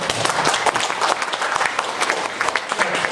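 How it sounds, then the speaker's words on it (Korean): Audience applause at a 2015 shareholders' meeting in Korea, dense, continuous clapping from a roomful of people, loud and close, lasting the whole stretch with no talk over it. "그 책도 잘 썼다고 박수하는"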